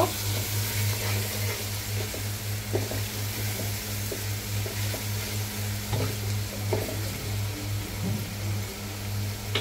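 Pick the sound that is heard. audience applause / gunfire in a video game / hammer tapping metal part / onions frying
onions frying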